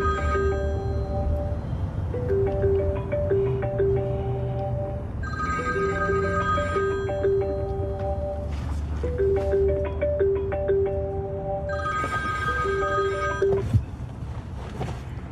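A telephone ringing unanswered, its melodic ringtone phrase repeating in about three cycles over a low background rumble, with no voices.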